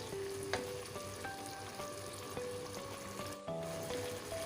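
Chicken wings biryani with lemon juice cooking in a pot, a steady close sizzle and bubbling frying sound with occasional stirring clinks, continuous and without speech.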